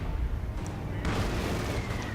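Mortar fire in the Company of Heroes 2 World War II game, low thudding booms and rumbling blasts in a dense battle din under a talking voice.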